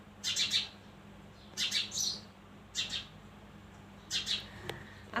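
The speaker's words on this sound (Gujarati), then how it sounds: "ચકલો જોયું બોલ બોલ કરે છે." A sparrow chirps nearby in four short bursts of bright tweets separated by pauses, over a low steady background hum, with no talking.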